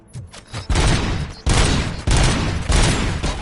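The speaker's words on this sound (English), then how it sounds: "Gunshots? What's going on?" Video game gunfire in RoboCop: Rogue City: loud repeated bursts of shooting that pound on in long sustained volleys, dense and close, with no talk.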